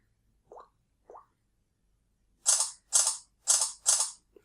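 Two soft mechanical clicks followed by four rapid, crisp shutter clicks from a Samsung Galaxy Note 4 phone camera in an even burst, close and quiet.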